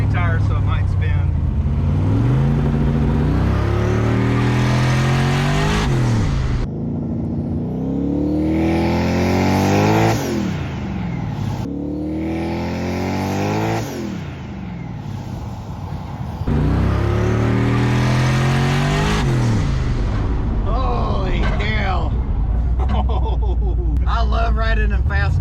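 A twin-turbo Studebaker Diamond T truck on street tires accelerates hard, its engine roaring loudly through rising gear pulls with brief shifts in between, while people talk continuously over the noise.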